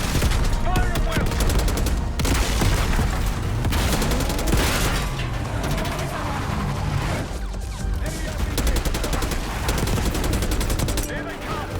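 Heavy battle gunfire from the video game Call of Duty: Black Ops 6, with overlapping rifle bursts, machine gun fire and booming impacts continuously filling the scene, loud and close, with voices partly mixed in.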